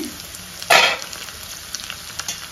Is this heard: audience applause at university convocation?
no